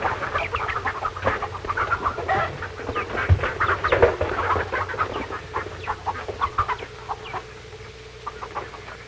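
Hens cluck in a chicken house in a 1946 film soundtrack. Dense, repeated clucking chatter runs over a low hum and grows sparser toward the end, with no talking.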